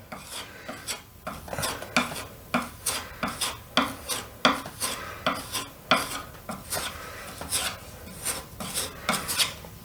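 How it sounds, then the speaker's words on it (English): Rhythmic rasping strokes of sandpaper on a painted seam of an old baseboard heat register, about twenty even back-and-forth rubs close up with no talk. "This is the seam that I just sanded. I just want to tighten that up a little bit. I'm going to do the same thing."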